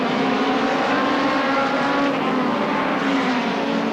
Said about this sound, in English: And behind Paul comes the 66 car, I think, is next.